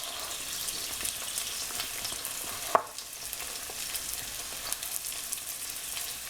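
Onions and scallions frying in a pot for a Guyanese gilbacka fish curry, an even, dense sizzle and crackle throughout with one sharp utensil clink midway, no speech.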